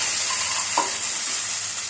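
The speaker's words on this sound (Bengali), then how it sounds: "পেঁয়াজটা একটু নাড়াচাড়া করে দিই, একটু নাড়িয়ে দিই পেঁয়াজটাকে।" Onions frying and being stirred in a pan, a steady close sizzle with a brief scrape of the spoon partway through, no voices.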